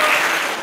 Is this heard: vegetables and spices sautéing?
no